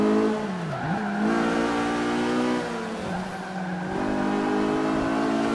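A KTM X-Bow racing in Forza 5, its engine droning loud and steady with rising and falling pitch as it revs through corners, gear changes audible, no voices over it.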